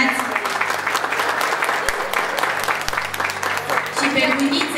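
Continuous applause from guests at a christening for the godparents, a steady wash of many hands clapping with chatter and a voice underneath.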